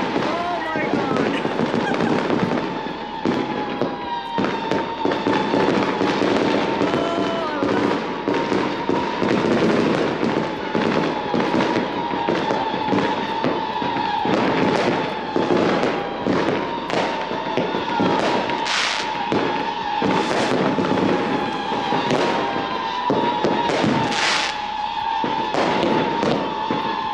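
Dense New Year's Eve fireworks bursting continuously in the UK, heard from a home backyard, a rapid crackling and popping barrage of overlapping bangs with firecracker snaps, loud and sustained throughout, with a voice occasionally exclaiming underneath.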